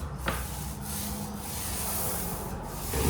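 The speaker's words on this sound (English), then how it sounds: "not really loaded with paint, just as it is, and then roll over it again" A paint roller, not freshly loaded, rolls back over a freshly brushed painted surface in a room renovation, giving a steady close rubbing, sanding-like swish that continues throughout.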